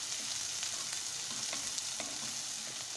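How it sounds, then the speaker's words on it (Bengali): Chopped onion sizzles steadily in hot oil with dried red chillies, curry leaves, mustard seeds and peanuts, giving a continuous bright frying hiss with small crackles, close and without talk. "একটু ভাজা ভাজা হয়েছে পেঁয়াজটা"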